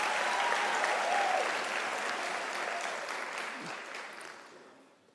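Audience at a University of South Africa graduation ceremony applauds new doctors, a dense roar of clapping filling a large hall, strong at first and gradually fading toward the end.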